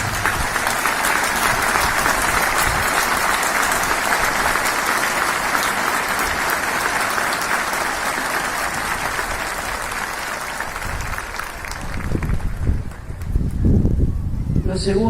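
A church congregation claps together in a long, dense round of applause that holds steady before thinning out, and a voice begins speaking near the end.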